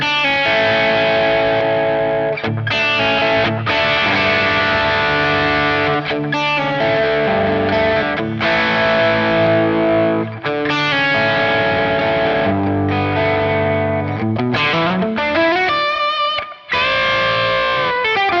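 An electric guitar played through a Warm Audio Bluesbreaker and King of Tone clone overdrive pedal in distortion mode with gain all the way up, giving loud, dense chords and sustained notes throughout.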